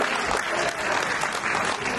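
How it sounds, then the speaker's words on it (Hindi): Audience at a scholarship award program applauds loudly and steadily for a winner, a dense continuous wash of clapping filling the whole stretch with no talk. "जोरदार तालियां हो जाए सेकंड विनर के लिए।"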